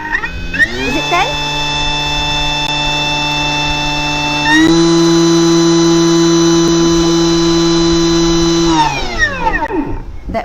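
A blender motor spins up to 10,000 RPM, a loud steady whine that rises at the start, steps up in pitch midway, holds steady, then winds down at the end.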